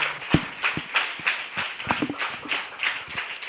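Scattered claps from a church gathering welcoming a guest pastor to the front, uneven, moderately close, with no talk over them.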